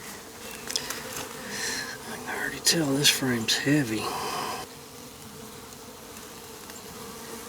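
Dense, steady buzzing of many honey bees swarms around an opened hive during a frame inspection, holding throughout while a person speaks briefly in the middle over the hum.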